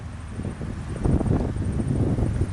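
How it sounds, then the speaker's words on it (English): Steady gusty wind buffets the microphone at a hilltop viewpoint near Auckland, New Zealand, a low roaring rumble that swells louder midway through and stays close and continuous, with no talk. "the wind has picked up a little bit"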